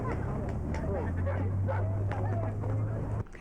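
Dogs at an outdoor weight pull competition yelp and bark amid a noisy crowd, with a steady low engine-like drone running underneath and people talking nearby.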